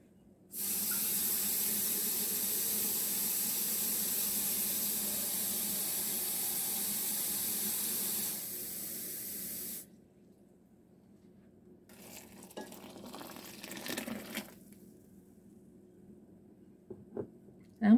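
A kitchen tap runs in a strong, steady hiss as water pours into a pot to cover food for about nine seconds, then stops, followed by quieter handling clatter and small knocks.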